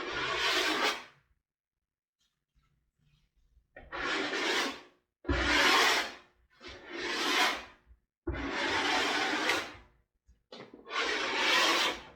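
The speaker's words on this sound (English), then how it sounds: "I'll give the red a little scrape." Red paint being scraped across a painting in a handful of separate broad scraping strokes, close up, with short silent pauses between them and no voices.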